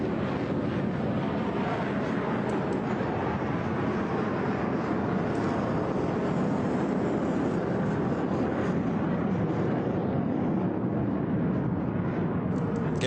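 A military jet at an air show roars steadily on afterburner as it pulls into a steep vertical climb, producing a continuous, broad, loud rumble with no talk.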